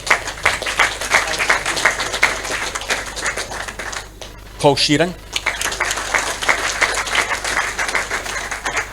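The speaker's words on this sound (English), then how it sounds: "A round of applause for Gary Holt," Audience applause at a Falkirk FC board and management Q&A, steady clapping from a room of people running through most of the stretch, briefly dipping while a man announces a name over it.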